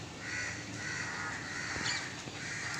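A crow caws loudly against steady outdoor background noise, giving one clear harsh call in the middle followed by a fainter one.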